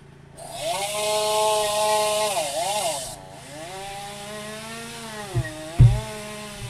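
A chainsaw runs nearby with a steady buzzing drone, rising and dipping in pitch as it revs, then idles lower before a few knocks.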